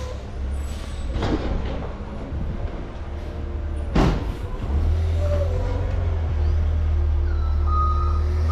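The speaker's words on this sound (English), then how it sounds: "I'm gonna pick up this one garbage can." A garbage truck idles with a deep engine rumble, a clatter and thump partway through as it picks up a trash can, then the engine note rises into a steady loud drone.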